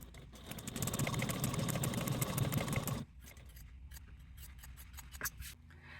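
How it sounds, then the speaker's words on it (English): Scissors trim a fabric seam allowance down to a quarter inch, giving several seconds of dense, close rasping cuts followed by quieter, intermittent snips; no voices are heard. "afterwards, you want to trim that seam allowance to a 1/4 inch"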